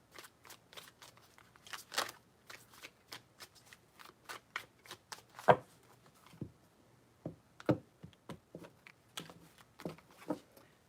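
Tarot cards shuffled by hand in a steady run of crisp riffles and soft slaps, near and alone with no talk.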